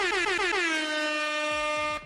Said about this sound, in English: where's the air horn?